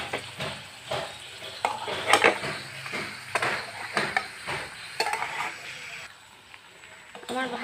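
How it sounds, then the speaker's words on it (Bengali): Paneer pieces fry in white oil in a pan, a soft sizzle broken by repeated clinks and scrapes of a spatula turning them, fairly close. "এই পাশটাও হালকা করে ভেজে নেব"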